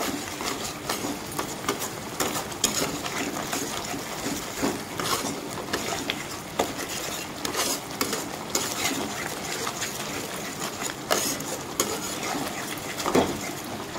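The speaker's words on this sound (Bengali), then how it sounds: "তো মশলাটাকে ভালোভাবে আমি কষিয়ে নেব।" A spoon scrapes and stirs masala paste with salt and turmeric in a pan with very little oil while a ridge gourd (jhinge) lunch dish cooks. The scraping and light sizzling are continuous, close and fairly loud.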